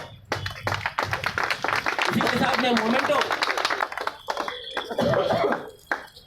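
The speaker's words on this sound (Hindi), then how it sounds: "जोरदार ताली के साथ में स्वागत किया जाए" An audience at an award ceremony applauds as a certificate and memento are presented, a burst of clapping close by under someone speaking over a microphone.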